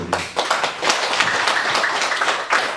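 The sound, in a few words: congregation clapping in church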